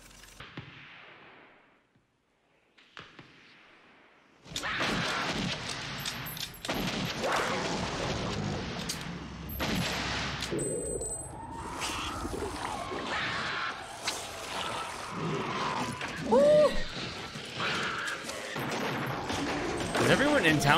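Gunfire from the 1990 film Tremors: a dense, loud stretch of rapid shots and booms amid movie sound, with people talking over it.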